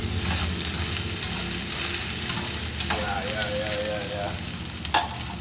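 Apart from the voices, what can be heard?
mince frying in a pan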